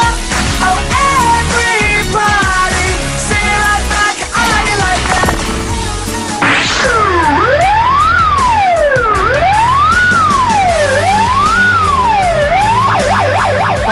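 Loud wailing siren of an ambulance-style taxi in traffic, starting with a fast yelp pattern and then switching to a slow rising and falling wail, continuous and close.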